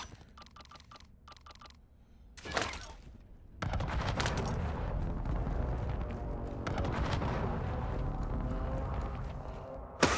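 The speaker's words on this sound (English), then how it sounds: "Friendly precision airstrike inbound." In Call of Duty Warzone, a precision airstrike lands as a sudden loud blast followed by a sustained roar of rolling explosions and gunfire, preceded by faint beeping tones.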